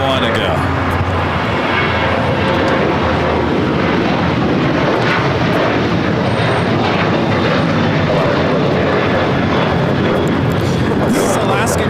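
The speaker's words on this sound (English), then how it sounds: "This is Alaska Airlines 1147 taking off to Seattle on the 737-800." An Alaska Airlines Boeing 737-800 jet taking off at LAX bound for Seattle, producing a loud, continuous engine roar with dense low rumble and a thin high whine, with voices talking over it.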